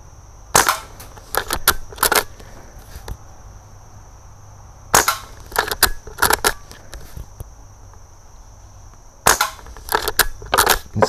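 Three bursts of sharp, close shots from an Umarex Cowboy BB rifle and revolver, each burst a rapid cluster of snappy cracks with quiet pauses between them.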